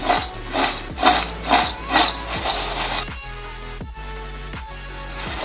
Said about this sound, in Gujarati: હવે આપણે મિક્સ કરી લેશું.